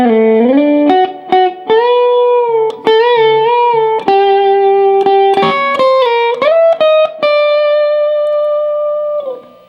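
A guitar solo lick from a song, played on electric guitar as a flowing run of sustained, bending notes with slides, sounding close and continuous with no talking.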